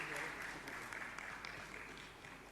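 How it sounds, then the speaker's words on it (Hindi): An audience at a Jain religious question-and-answer discourse claps together, giving a dense, continuous patter of applause that stays fairly even and slowly fades slightly toward the end. "ताली जोरदार बजाएं,"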